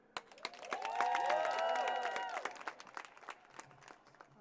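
A crowd at a voting-rights rally at the Lincoln Memorial breaks into applause and cheering, swelling quickly and then thinning out into scattered claps, heard from some distance over an open outdoor space.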